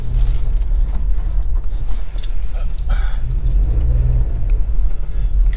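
A car driving along village lanes in Carbrooke, heard from inside the cabin as a steady, loud, low engine and road rumble that barely changes throughout.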